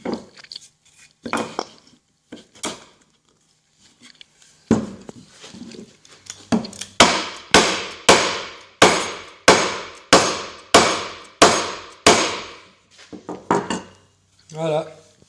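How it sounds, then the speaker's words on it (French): A hammer drives wooden dowels into holes in a workpiece, starting with a few scattered taps, then settling into a steady run of about a dozen sharp, loud, close blows at regular intervals, ending with lighter quick taps. "Avec un marteau, c'est plus facile."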